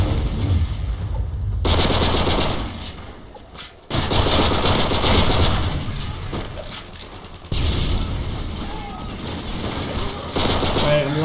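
Rapid gunfire bursts from a pistol and other weapons in Call of Duty Modern Warfare 3 multiplayer, loud and repeated in clustered volleys with short pauses between, game sounds dense throughout.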